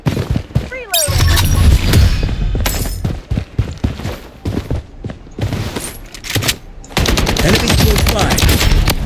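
RPK machine gun fire in the video game Blood Strike: loud, dense automatic bursts rattle almost continuously, with short gaps and heavy thumping impacts between strings of shots.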